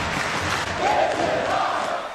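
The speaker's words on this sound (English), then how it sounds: "And the crowd is loving this" An ECW wrestling crowd roars and cheers during a ringside brawl, a loud, dense wall of shouting voices that swells midway and holds steady.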